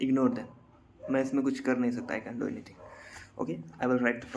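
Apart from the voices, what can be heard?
No distinct noise like a dog, phone or traffic.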